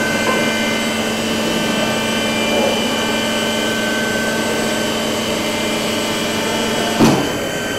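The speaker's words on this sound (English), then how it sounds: "what you see is a vertical milling machine, a conventional, traditional vertical milling machine" A conventional vertical milling machine running in a steel technology lab, a steady mechanical hum with whining tonal overtones, loud and close, with a brief knock near the end.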